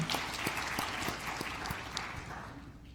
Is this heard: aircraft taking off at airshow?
no